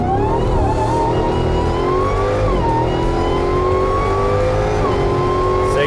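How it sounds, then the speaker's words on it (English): A supercharged Jeep Gladiator with a Demon engine accelerates hard, its loud, rising supercharger whine climbing steadily with a brief dip at a gear shift, roaring close and continuous without talk. "That supercharger noise is just unbelievable."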